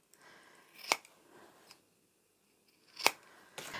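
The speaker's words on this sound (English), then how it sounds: "Now you can do that easily just by snipping it across the diagonals there." Fabric corners are clipped diagonally with scissors while sewing a scrap-fabric keychain card wallet: two crisp, sharp snips about two seconds apart, then the start of a third, each close and clear against a quiet background.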